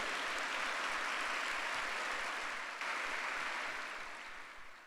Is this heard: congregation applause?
yes